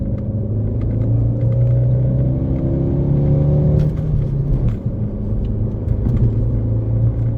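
A car engine rumbles and climbs in pitch as it accelerates from 0 to 100 km/h, with a gear shift partway through and road noise underneath; no talking.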